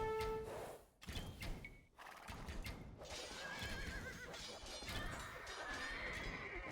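Horses in the Age of Empires II video game neigh and whinny in short bursts amid clip-clopping hooves and battle thuds, a busy, continuous game-sound mix with no talk.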